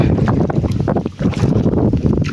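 Strong wind gusts ahead of coming rain, buffeting the microphone in a loud, rough, continuous rush with no pauses.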